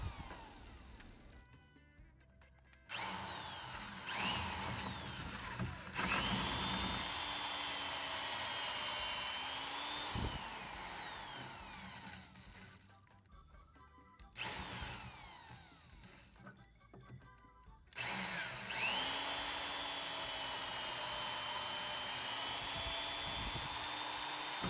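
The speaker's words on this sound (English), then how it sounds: "it works pretty quickly to dismember an entire pallet" A power drill with its bit driven into a wooden pallet to break it apart, whining steadily at high pitch in long bursts separated by short pauses, loud and close.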